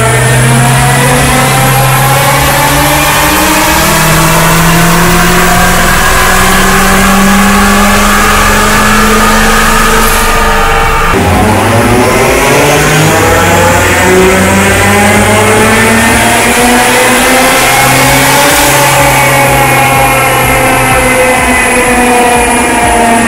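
Turbocharged Mitsubishi Xpander engine revving loudly and close, the pitch climbing in long sweeps, dropping sharply around the middle, then rising again, with no talk over it.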